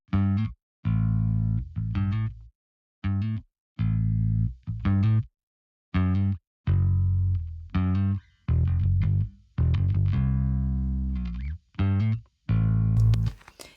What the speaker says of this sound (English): You can actually hear some distortion on the tone as well.